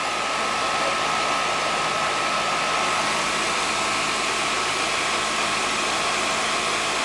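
Air conditioning unit with a scroll compressor running close by, a loud, even broadband whoosh of airflow with a faint steady hum, unchanging throughout and no voices.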